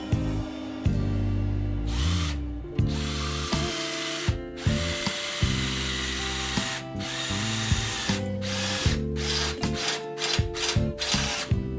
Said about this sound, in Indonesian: Jadi tes untuk mengebor besi sudah bisa dilalui dengan baik